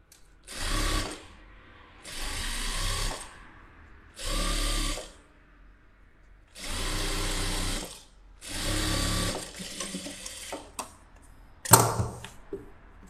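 A sewing machine stitches blue-coloured thread through lining fabric in five distinct bursts of a few seconds each, separated by short pauses, followed by a few small clicks and handling knocks at the end.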